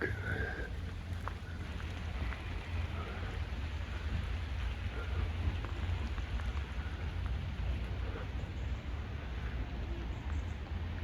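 Heavy rain pours steadily in Blackpool, a dense, constant roar of drops on surfaces with a deep low rumble underneath, unbroken and fairly loud across the whole stretch with no talking.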